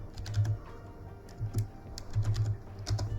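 Computer keyboard tapped in short quick bursts while a node search is typed in Unreal Engine 5, close and quiet clicks in uneven clusters.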